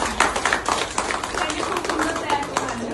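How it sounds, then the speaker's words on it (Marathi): Applause for the parents breaks out at a pre-school function in Katraj, Pune: scattered, sharp hand claps roll on under voices talking nearby. "आणि एका पालकांच्यासाठी जोरदार टाळ्या वाजवायच्या."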